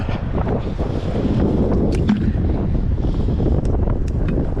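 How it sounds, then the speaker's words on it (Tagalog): Strong wind buffets the microphone at a seashore, a steady, loud, broadband roar with gusty rumble and faint surf beneath it throughout. "So dito talaga malakas yung hangin, oh."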